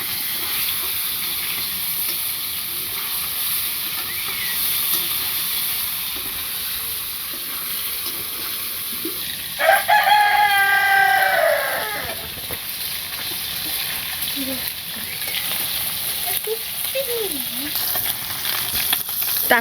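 Fish frying in a pan on a rural clay stove, a continuous soft hiss and sizzle throughout, with a short louder burst midway and faint background sounds.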